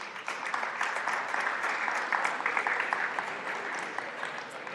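Sustained applause from an audience at a high school athletic awards ceremony, steady and full for several seconds with no voices over it.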